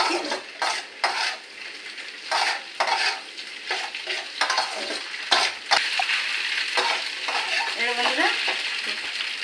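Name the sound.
stirring pasta in a frying pan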